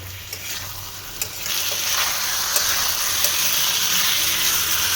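Meat curry frying and being stirred in a pan, a steady broad sizzle with occasional scrape and clink of the spoon, close and continuous with no talking.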